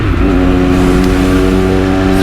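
A 2020 Triumph Moto2 Daytona 765 triple engine revs loud and close, a steady, harmonically rich roar that holds throughout without a break.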